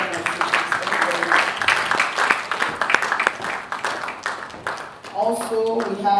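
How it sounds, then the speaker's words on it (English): Audience applause at an International Women's Day gathering as a speaker takes the stage, a busy patter of clapping for about five seconds before a voice takes over. "Let's be clapping, she's coming on stage."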